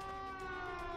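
A police siren wails in a video game customs-chase scene, a steady, rich harmonic tone holding at a constant level, with no talk over it.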